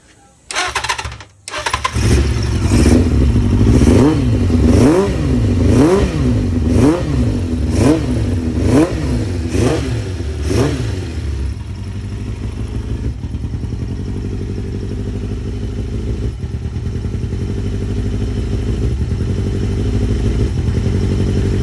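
A big bike motorcycle engine cranks and catches, then revs up and down in repeated surges before settling into a steady, loud idle.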